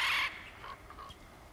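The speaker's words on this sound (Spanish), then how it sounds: "nos ha traído los cuervos" A crow caws in the video game God of War Ragnarök, in the Asgard realm, giving one loud, harsh call up front followed by a few fainter, shorter calls.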